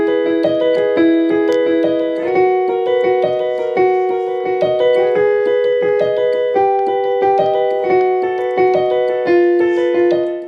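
An Aeroband smart guitar plays a bright, synthesized instrument voice in a steady melodic line with layered harmonics, sounding more like keys or brass than a plain guitar, continuous and clear.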